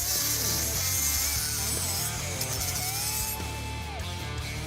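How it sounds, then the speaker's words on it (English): Grinder dressing a freshly welded part on a 1970 Dodge Challenger, a continuous loud abrasive whine that shifts in pitch as it bears on the metal, close and without talking. "With it welded together, we can go ahead and dress it up real quick like with a grinder."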